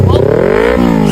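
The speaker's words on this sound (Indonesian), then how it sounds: "Mantap juga motor abangnya." Motorcycle engine revving loudly up close, a rising droning pitch climbing steadily then dropping briefly, with people chattering over it in a street setting.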